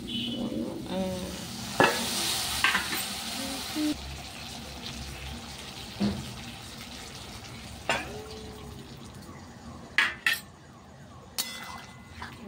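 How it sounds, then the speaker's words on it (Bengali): Water poured into a pan of frying rohu fish curry with okra, potato and onion sets off a sizzle, joined by stirring and occasional clinks of utensils, with sharp bursts of spitting scattered through. "একটু হালকা জল দিয়ে দিই, দেখি কেমন হয়।"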